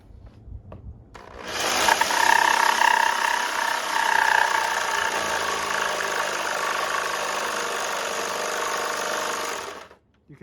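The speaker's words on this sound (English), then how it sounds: "I'll throw a blade in it and I'll start cutting some wood." An auto scroller saw cuts 1/4-inch particle board, its motor ramping up into a steady, loud buzzing whine with a rapid reciprocating drone that holds for about eight seconds, then cuts off abruptly.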